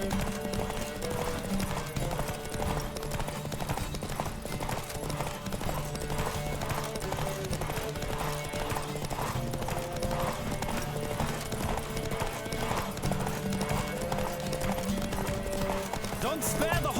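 Horse hooves galloping in a steady rapid clip-clop rhythm during a race in Witcher 3: Wild Hunt, loud and continuous, with game music and voices talking underneath.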